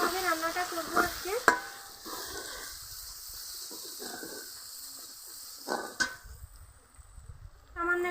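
A spoon works through spice masala in a pan for a grass carp fish curry, giving soft intermittent scraping strokes and light sizzling at low, close volume.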